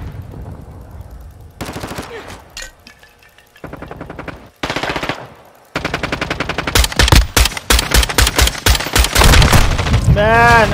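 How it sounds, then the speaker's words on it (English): Sharp, loud automatic gunfire from Modern Warfare 2 comes in stuttering bursts, choppy and broken by gaps, building to sustained rapid fire toward the end, with a player talking over it. "I'm never gonna get anybody with this gun. Look at that. Pop, pop, pop, pop, nothing."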